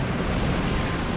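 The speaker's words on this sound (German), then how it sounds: "Wir befinden uns unter Beschuss." A dense, heavy burst of battle gunfire fills a brief moment in Codename: Panzer Phase One, loud and continuous with no clear gaps.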